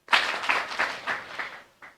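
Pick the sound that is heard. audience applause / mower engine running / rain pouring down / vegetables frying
audience applause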